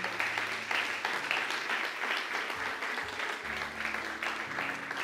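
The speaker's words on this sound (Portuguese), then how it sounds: "Aplauda ao Senhor." A church congregation at a revival service claps together for the Lord, a full, steady burst of applause with a low hum of music or organ tones underneath and no talking.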